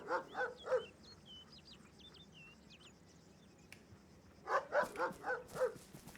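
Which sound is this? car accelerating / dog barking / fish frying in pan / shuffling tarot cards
dog barking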